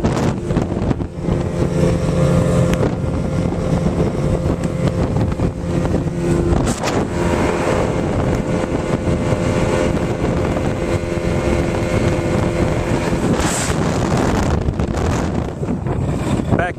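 A BayPro motorboat idles through a channel on Clear Lake, its low engine hum running steadily beneath heavy wind buffeting the microphone and some faint background noise.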